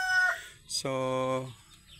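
Farm chickens clucking soon after feeding, a short cluck followed by a sustained harmonic rooster-like call near the mic, with light background bird noise.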